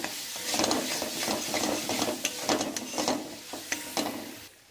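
A spiced mixed vegetable dal being sautéed in a pan, with repeated spatula scrapes and clacks over a low sizzle, moderately close and steady.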